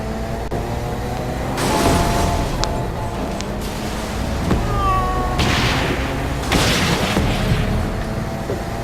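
Cars bursting into flames and exploding in the Saints Row: Gat Out of Hell video game, heavy booming blasts around 1.5–2.5 s and again near 6.5–7.5 s over a constant rumbling game backdrop.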